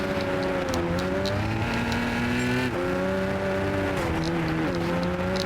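Race cars roar through a stage in the video game Gran Turismo, including a Honda Civic ahead, with a loud continuous engine drone whose pitch rises and dips with gear shifts and throttle, heard alone without talk.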